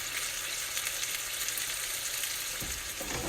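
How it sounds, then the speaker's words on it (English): Salisbury steak patties sear in a hot skillet with a dense, even sizzle that stays constant and fairly quiet, joined by a faint clatter near the end; no one speaks. "So, I'm going to let them sear for about 2 more minutes."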